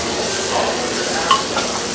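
Artichokes and fennel fry in olive oil in a pan, giving a dense, steady sizzle that stays loud and close throughout, with a faint clink partway through.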